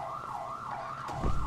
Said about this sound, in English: if you hear that ambulance going past, that's him